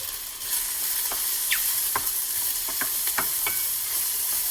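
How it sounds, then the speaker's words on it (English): Shiitake mushrooms, onions and shallots sauté in a hot pan, a continuous close sizzle punctuated by several sharp clicks and scrapes as the pieces are stirred. "we are going to add in our mushrooms, add in our onions and shallots, and we're just going to cook that"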